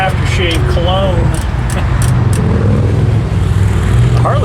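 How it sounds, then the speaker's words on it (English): Harley-Davidson motorcycles rumble past on a street with steady low engine drone and traffic noise, while people talk over it throughout. "The Harleys are out today."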